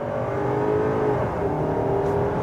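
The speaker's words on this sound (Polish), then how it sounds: "I fajnie brzmi silnik i tę turbosprężarkę słychać ten świst." A Volkswagen Tayron's turbocharged engine pulls hard under acceleration, a steady loud drone with rising harmonics and a thin turbo whistle on top, no voices.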